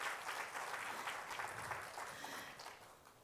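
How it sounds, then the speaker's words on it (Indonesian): A church congregation at a GBT Sunday morning service claps and cheers in praise, a faint, distant, continuous wash of applause that fades slightly toward the end. "Berikan sorak-sorai tepuk tangan bagi Tuhan kita"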